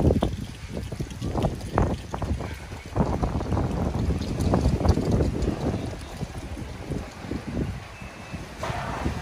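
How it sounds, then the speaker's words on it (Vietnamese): Strong, gusty wind with light rain outdoors, buffeting the microphone as a continuous low roar that swells and dips, with faint patter and rustle throughout. "trời thì gió đang rất là to đây các bác quan sát"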